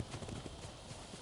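Horse hooves clip-clopping in Ghost of Tsushima, a steady run of dense, close hoofbeats that keeps up through the whole moment with a brief whinny-like hint and no talk over it.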